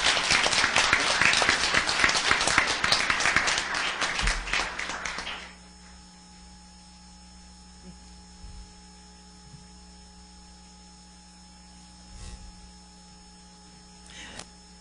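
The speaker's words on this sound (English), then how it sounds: "So let's give them a round of applause." Loud applause from a school board meeting audience fills the first five seconds, then cuts off abruptly, leaving a steady electrical mains hum with a few faint knocks.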